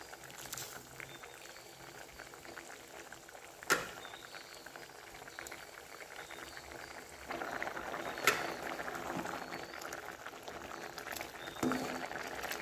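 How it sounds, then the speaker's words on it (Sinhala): Pumpkin curry with coconut milk bubbles steadily in a pot, a soft continuous simmer of popping liquid with a few sharper clinks and bursts, heard close and alone without talk. "මෙන්න මේ වගේ උතුරගෙන එනකොට"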